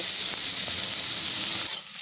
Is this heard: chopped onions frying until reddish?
yes